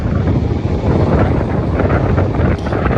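Steady wind buffeting a microphone high up in a tower, heard through a played recording, a continuous loud low rumble with gusty swells and no voices.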